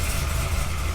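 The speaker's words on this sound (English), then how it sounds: "when you're sitting there, it sounds like an old muscle car" Deep, throaty exhaust rumble from an idling Corvette Z06 engine with a big cam, not tuned quite right, loud and close, steady for the whole moment.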